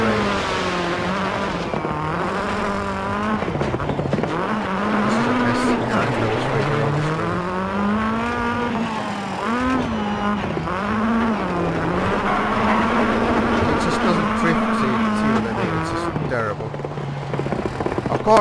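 A rally car engine in DiRT 4 whines and revs continuously, its pitch rising and falling as the car drives and slides, while someone talks over it throughout.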